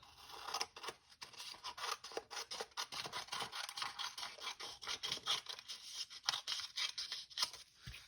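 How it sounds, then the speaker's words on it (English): Scissors snipping through folded paper for a snowflake, a quiet run of close, rhythmic crisp cuts and rustles repeating steadily. "So now I'm just going to take my scissors and cut off this extra piece."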